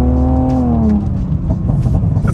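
A BMW E46 engine revs loudly and close, its pitch falling as the paddle-shifter upshift engages about a second in, then settling into a rougher, lower drone.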